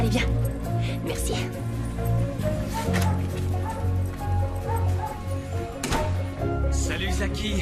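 A dog yips, barks and whimpers in short bursts under ongoing speech, with a steady music bed beneath and a couple of sharper bark-like peaks near the middle and end.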